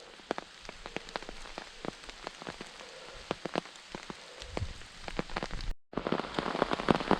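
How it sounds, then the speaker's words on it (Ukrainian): Rain patters steadily on leaves and surfaces nearby in a Carpathian forest, with many distinct drops tapping irregularly against a soft background wash. "Дощ лиє."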